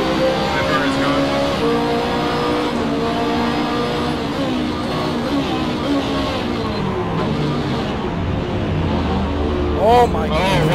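A Ferrari race car in Assetto Corsa runs at a loud, steady high-revving engine whine for the whole stretch, with pitch shifts as it accelerates and changes gear, and a sharp rising rev near the end.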